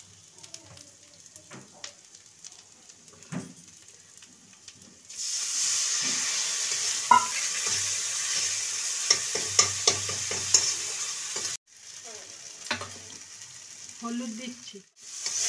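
Cumin and coriander powder frying in oil for a fish head curry, a quiet start then a steady loud sizzle with stirring scrapes from about five seconds, a brief drop near eleven seconds before the sizzle resumes.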